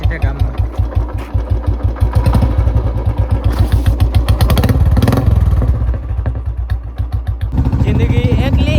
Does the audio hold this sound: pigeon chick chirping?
no